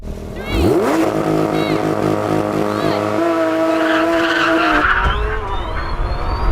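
A Porsche 911 GT3 RS and a Lamborghini Aventador SV launch off the line in a drag race, tires squealing with wheel spin over loud rising engine roar that builds and shifts pitch, then fades as the cars pull away.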